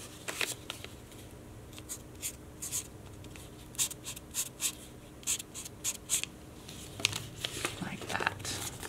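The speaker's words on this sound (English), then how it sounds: "I'm going to write to Mom." Pen writing on a handmade paper Mother's Day card, short scratchy strokes in irregular bursts, close and quiet, with someone speaking softly in places.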